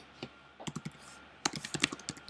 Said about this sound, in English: Using my computer keyboard.